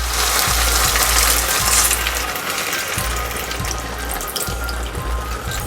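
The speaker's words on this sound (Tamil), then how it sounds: "அந்த புளி தண்ணியை இதில் ஊற்றிடலாம்." Tamarind water hits a pan of okra curry cooking on the stove, producing a steady loud sizzle and bubbling hiss that runs unbroken throughout, close by and alone.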